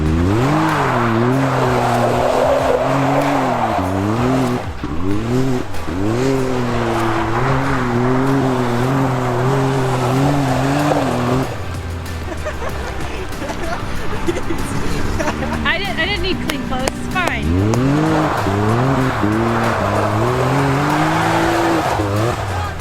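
An off-road project vehicle churns through mud, its engine repeatedly revving up and dropping in loud, close surges with a brief quieter stretch midway, while people talk and exclaim over it.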